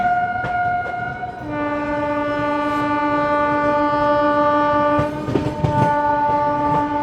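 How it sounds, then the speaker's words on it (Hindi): An Indian passenger train's horn blares in long sustained tones, shifting pitch once, over the rumble and clatter of the moving train near Etawah Junction. "सीटियां बजाती हुई हमारी ट्रेन।"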